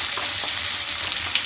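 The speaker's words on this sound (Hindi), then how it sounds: "तो ये अनियंस को हम अच्छे से ब्राउन करेंगे" Onions frying in a pan for Punjabi chhole after cumin seeds, a loud, dense, continuous sizzle and crackle heard up close.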